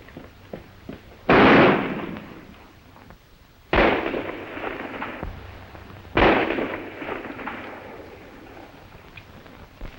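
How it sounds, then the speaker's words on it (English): Gunshots ring out in a 1941 western film, three loud sharp cracks spaced a couple of seconds apart, each echoing off with a decaying tail in a quiet scene. "Somebody's shooting at us."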